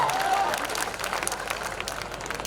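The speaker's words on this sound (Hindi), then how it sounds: "तालियां बजाइए, अपना काम लगाता हूँ अब।" Audience applause at a Hindi comedy poetry show, a dense, steady wash of many hands clapping throughout, filling the hall evenly without a break.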